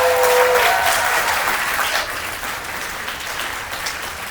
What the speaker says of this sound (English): Just give them a round of applause, please.